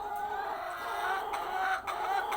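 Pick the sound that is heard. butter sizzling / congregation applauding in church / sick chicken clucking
sick chicken clucking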